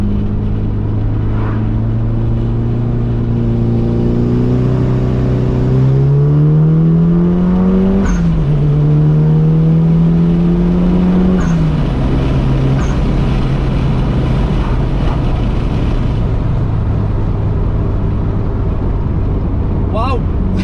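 A Mitsubishi Lancer Evo's engine drones steadily from inside the car while driving, pitch climbing through the gears and dipping at shifts, loud and continuous, with speech heard over it.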